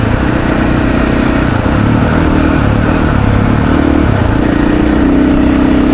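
KTM 500 EXC-F dirt bike cruising in sixth gear, a steady loud close-up single-cylinder engine drone with a constant low hum and wind rumble throughout, no talking.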